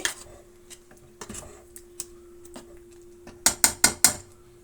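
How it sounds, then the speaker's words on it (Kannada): Scattered light taps, then four quick metallic clacks in a row as a plate is set down over a pan, close by. "ಪ್ಲೇಟನ್ನು ಮುಚ್ತಾ ಇದ್ದೀನಿ."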